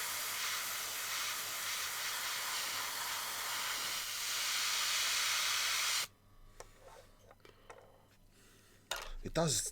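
Black spray paint hissing from a can onto a bench, a loud continuous spray for several seconds that cuts off abruptly, followed by faint clatter and a brief second burst.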